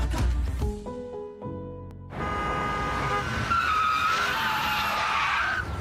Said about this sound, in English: What you're hearing isn't a traffic accident. It's not panic braking.